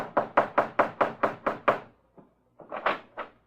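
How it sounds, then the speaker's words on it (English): Several firm knocks on a door in a steady run of about eight raps, then a short pause and a few more knocks, close and clear with no talking, from an old-time radio detective drama. "Now we find the Falcon, Charlie, and Vince knocking on the door of the snake in his own personal Garden of Eden"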